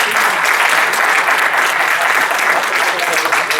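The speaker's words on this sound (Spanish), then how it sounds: "Pues vamos a dar un aplauso." Audience applause at a talk, dense and loud sustained clapping from a full room, steady throughout with no pause.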